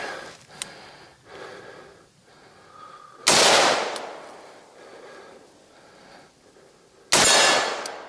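Two sharp, loud rifle shots fired at a target outdoors, spaced several seconds apart, each a sudden bang with a short decaying tail over quiet background.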